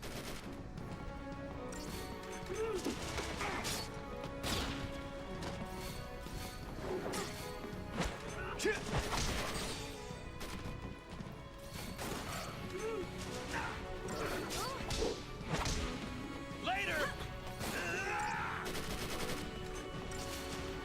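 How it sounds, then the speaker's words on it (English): Punches land on a cyber dog during a battle in Final Fantasy XIII, with repeated smashing hits, whooshes and gunfire-like bursts crowding a dense, loud combat mix with voices mixed in. "Yeah, punching a cyber dog."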